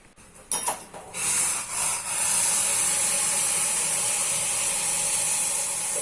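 Boiling water for bhakri dough gives off a steady, loud steam hiss after a few brief clatters at the start, continuing unbroken to the end.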